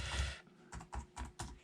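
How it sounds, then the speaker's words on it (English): Quiet, close keystrokes tap out in a quick, uneven rhythm, a handful of distinct clicks on a computer keyboard. "I hate this keyboard massively."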